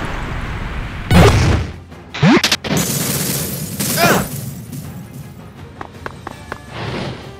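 Several explosive fire-spell blasts and bursts ring out in a Paper Mario style video game, loud booms spaced over several seconds with crackling debris and sharp transient hits, followed by quieter pops near the end.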